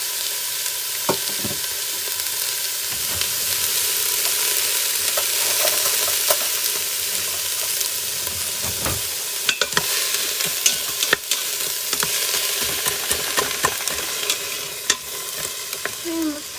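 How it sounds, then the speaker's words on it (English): Frozen celery sautes in a pan, a steady broadband sizzle running throughout with scattered scrapes and clicks of stirring, fairly close and continuous with no talk. "I'm going to go ahead and put that all in. And let that saute up."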